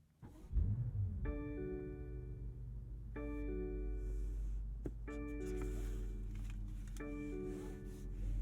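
A BMW M5 Competition starts up with a brief burst, then settles into a steady, low idle rumble heard from inside the cabin, while a repeating electronic chime sounds four times over it.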